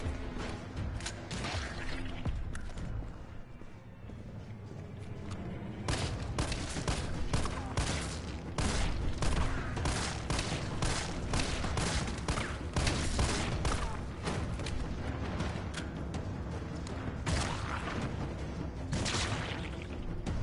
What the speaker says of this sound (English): Oh, they're exploding.